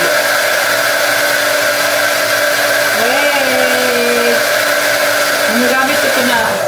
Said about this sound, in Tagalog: Ginagamit ko to na blower para matuyo agad.